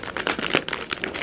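Wrapping paper on a Christmas gift crinkles and rustles in soft, close bursts as its edges are folded and corrected, faint and without talk.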